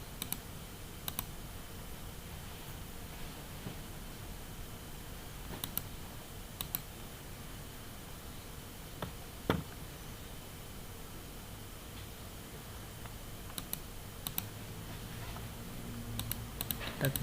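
A computer mouse clicks during work in a simulation program, with sparse sharp clicks scattered over a steady hiss of background noise.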